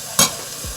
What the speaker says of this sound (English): I'm gonna go ahead and add my potatoes into it.